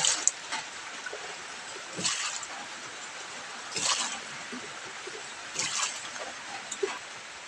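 Water sloshes and splashes in several separate bursts, with trickling and dripping between them, as muddy taro is rinsed close by.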